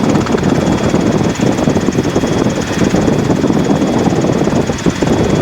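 A Robinson helicopter in flight on a training trip, heard from inside as a loud, steady rotor and engine drone with a dense, even chop that never lets up.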